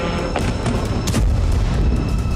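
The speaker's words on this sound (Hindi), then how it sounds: "तभी रूस के गेरान ड्रोन से भीषण धमाका हुआ।" A blast from a Russian Geran drone strike over Kyiv around sunrise, a loud, broad rumbling boom filling the whole short stretch with dense low-end roar and a couple of sharper bursts, no voices.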